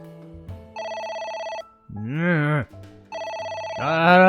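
Telephone ringing in the video game AI: The Somnium Files, two loud bursts of harmonic ring tones alternating with a voice talking between them.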